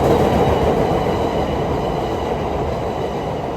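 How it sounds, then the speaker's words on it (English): A Chicago CTA Red Line train rumbles past close by, loud and steady, with a dense low roar and rattling wheels that fade slightly toward the end. "Now let's take a Red Line train and visit the next stop"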